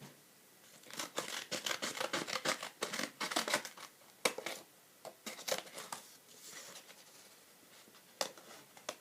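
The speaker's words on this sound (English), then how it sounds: "Then I grab the scissors and I cut this little cutie out." Scissors snip through paper to cut out a drawn bear, a quick irregular series of close, crisp cutting and rustling sounds with no talking.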